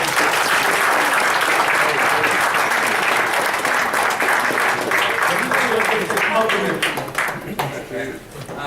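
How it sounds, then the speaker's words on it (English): An audience applauds a guest being introduced at a live event, sustained dense clapping that gradually thins toward the end. "could y'all do me a huge favor with a big round of applause"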